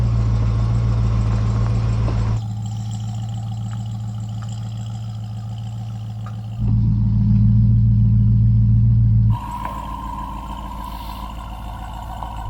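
A Hennessy Mammoth pickup truck drives off-road, its engine a loud, steady low rumble that swells and settles as the load shifts, close and continuous with no talking.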